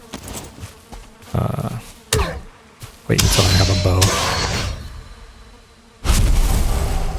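A bee buzzes in the Valheim video game near a structure in an open field, a steady drone running through several seconds beside other game sounds and a short spoken phrase.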